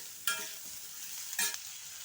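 Cut pumpkin pieces cook in a pan on low heat with a quiet steady hiss, interrupted twice by brief louder bursts of stirring or sizzling.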